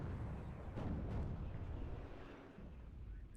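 Mortar fire in the Warno strategy game gives off low, muffled booms and a rumbling roll, faint and distant with no voices.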